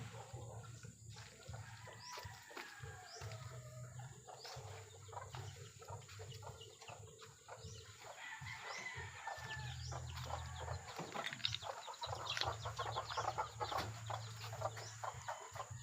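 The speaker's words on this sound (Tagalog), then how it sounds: "Yan pa yung ating isang inahin na SBR line na 4 na araw na ito naglilimlim." A brooding hen of the White Gold bloodline (SBR line) sitting on eggs, giving soft intermittent clucks and low murmurs amid a farmyard backdrop with other chicken calls and a faint steady hum.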